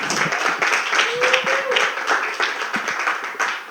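The open mic audience at the Bowery Poetry Club keeps applauding, steady clapping with a brief rising whistle or cheer partway through, and a voice briefly audible beneath.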